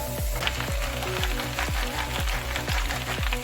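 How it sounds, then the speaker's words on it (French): Onion and spinach frying in olive oil in a pan, a steady close sizzle with rhythmic repeated stirring scrapes and no talking. "nous allons commencer par faire revenir un oignon dans un petit peu d'huile d'olive"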